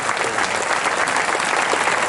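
A theatre audience applauds warmly for a comedy show, a dense, even wash of clapping held at full strength for the whole stretch, close and loud.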